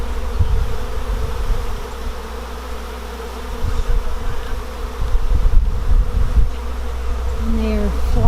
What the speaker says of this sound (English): This is a swarm. They are piling out of the box